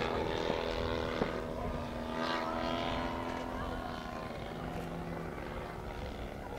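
A radio-controlled model airplane flies aerobatic manoeuvres at an international airshow, its buzzing propeller engine droning steadily and fairly loud throughout amid outdoor crowd noise.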